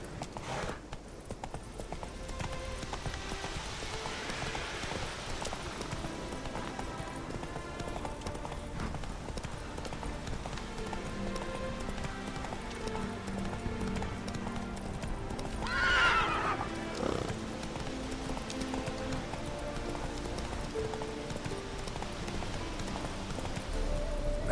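Roach the horse galloping in The Witcher game, rapid rhythmic hoofbeats running throughout with a clear neigh about two-thirds of the way through, over ambient game music.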